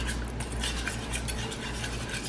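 Guava paste being stirred with water in a pot, a steady close scraping and swishing of a utensil against the pot bottom, continuous and moderately loud with no talk.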